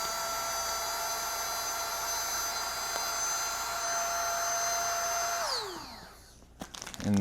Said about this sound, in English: So I'm going to put the pump on, press the button.